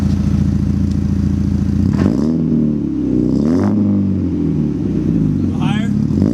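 A car with a 2.0 engine and a newly fitted deeper dual exhaust idles loudly, then revs up twice with rising and falling roars, close by, with voices talking over it.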